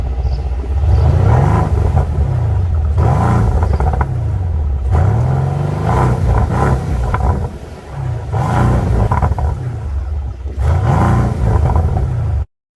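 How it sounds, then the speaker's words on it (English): A Mercedes-AMG C63 S Estate engine is revved hard several times in a row. Each loud, deep roar climbs and falls back before the next blip, heard close and alone. "I've asked one of my colleagues to jump in and show us how wonderful this engine really sounds."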